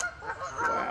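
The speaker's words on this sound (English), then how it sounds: "they call them Canada geese" Several Canada geese honking close by, harsh overlapping calls in a busy, continuous chorus.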